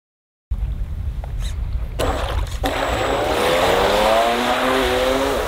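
A 3D-printed RC jet boat run at full throttle, its motor whining loud and steady over rushing water, the pitch rising and sweeping as it speeds away.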